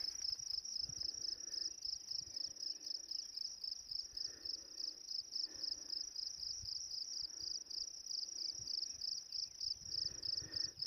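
Crickets in Oregon's Umatilla National Forest chirp in a fast, steady pulsing trill that runs unbroken the whole time, with faint low rustling and soft background noise beneath.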